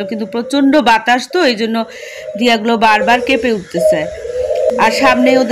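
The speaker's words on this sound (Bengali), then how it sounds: "এই সময় অবশ্য ঘুঘু সবসময় ডাকে দেখি।" A dove calls in the background on a windy evening, its low cooing partly buried under continuous nearby talk.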